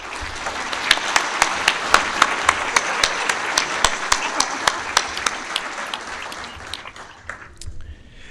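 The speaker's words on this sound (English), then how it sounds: "Please join me in a round of applause" Audience applause at an NHRA North Central Division awards ceremony, a steady sustained round of clapping from a crowd indoors, fading out near the end.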